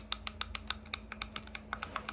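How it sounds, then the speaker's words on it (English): Plastic buttons on counterfeit AirPods Max headphones click about a dozen times in a quick, uneven series of sharp, close, quiet ticks with no talking. "these buttons that sound like this"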